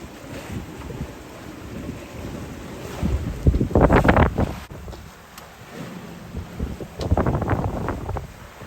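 Wind roars over the microphone aboard a sailboat at sea, gusting to about 20 knots, with water sloshing and rushing against the hull in surging gusts, near and loud.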